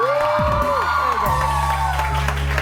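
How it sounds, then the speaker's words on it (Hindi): A studio audience on a New Year's morning talk show bursts into loud applause mixed with whoops and cheers, dense and close throughout, over a sustained musical or electronic tone. "उस्मा ताहिर के लिए बहुत सारी तालियां।"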